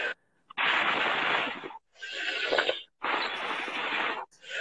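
Forceful exhalations during a breathing exercise come as three long, loud, breathy rushes, each lasting about a second, separated by short silent gaps and close to the microphone.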